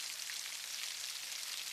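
Steady rain falling at night, a dense, even hiss of drops spread across the whole clip with no pauses, constant and fairly close.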